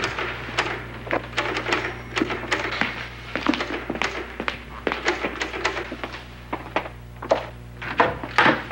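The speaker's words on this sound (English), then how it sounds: "Is that your typewriter?" An old typewriter clacks in a sitcom house, its sharp key strikes landing in quick, irregular bursts with brief pauses, close and fairly crisp, heard on its own without talk.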